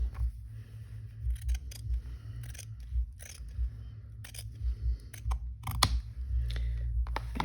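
Scissors snip through a piece of paper from a vintage children's book, a series of close, crisp cuts that come in short irregular bursts over a low background hum.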